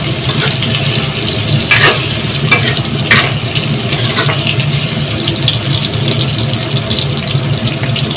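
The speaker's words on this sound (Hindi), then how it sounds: "ये चिमनी जो ये चल रहा है ना, उसका नॉइज़ है" A kitchen chimney exhaust hood runs with a steady, close whooshing drone and low hum, broken by a few faint clinks and scrapes of cooking.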